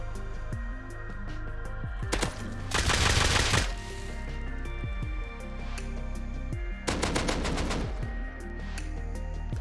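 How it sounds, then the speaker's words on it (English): Weapons fire in the survival game Rust, bow shots followed by a quick switch to a secondary gun such as a revolver. Sharp shots and rapid bursts crack over a steady game background, with two dense volleys standing out. "You first shoot someone with a bow or a crossbow and quickly switch to the secondary and finish the job."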